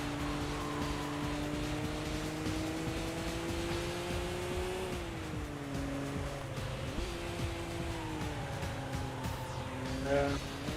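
A BMW M3 racing in Sega GT 2002 gives a steady, buzzy engine drone that climbs through the revs, dips at gear changes and climbs again, with someone talking faintly underneath.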